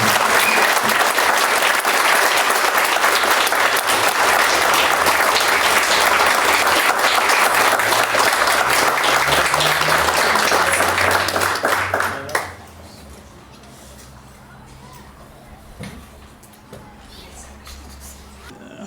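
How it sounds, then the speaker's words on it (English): An awards-celebration audience bursts into loud, dense applause with cheering for the winner, sustained for about twelve seconds before stopping abruptly, leaving a quiet room with faint low murmur. "I hope you'll all join me in cheering him on, our winner, Denny Dressman."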